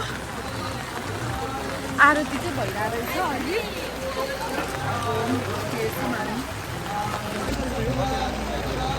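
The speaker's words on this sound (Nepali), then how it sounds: "ओ माई गड कस्तो पानी परेको" Heavy rain pours steadily at Pashupatinath Temple during evening aarti, a constant loud hiss beneath people talking nearby and a brief knock early on.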